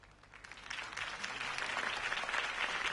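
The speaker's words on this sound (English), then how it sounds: "could have heard that applause" Crowd applause from a Batman video game, rising from a thinner start into a steady, dense wash of many clapping hands that holds at moderate loudness to the end.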